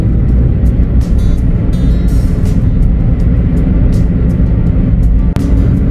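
Car driving on the road toward Schindellegi, Switzerland, with steady low engine and road rumble throughout and no talking.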